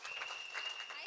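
Audience applause at a wealth creators team earners' gathering, a steady dense wash of many hands clapping throughout, fairly faint and distant, with a thin constant tone running beneath it.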